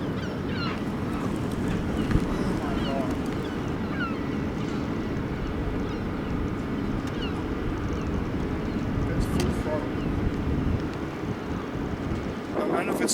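Outdoor wind buffets the microphone in a constant rumbling roar, with a voice speaking faintly under it.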